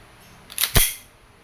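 An EMG TTI Pit Viper airsoft pistol, made in Taiwan under Taran Tactical Innovations license, fires a single shot: a brief mechanical clack and then a sharp, close snap, alone in a quiet room.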